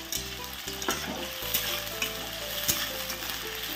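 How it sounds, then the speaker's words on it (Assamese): Mixed vegetables with onion frying and being stirred in a pan, a steady loud sizzle broken by scraping stirs and a few sharp clinks of the spatula against the pan. "চোৱাচোন কি ভাজি আছো মই।"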